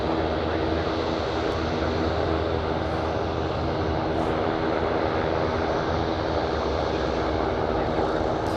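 A KC-135 aircraft at Anchorage Airport produces a loud, steady engine roar that fills the whole clip without letup.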